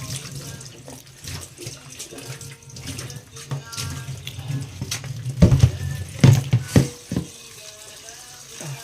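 Tap water runs steadily into a sink while food is prepared in a kitchen, a continuous close rush with louder splashing bursts near the end and no talk.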